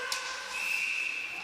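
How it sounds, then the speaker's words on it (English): A referee's whistle at a varsity hockey game between Team Midwest and Springfield, one sustained shrill tone lasting about a second over steady arena crowd noise. "Now finally we get a whistle"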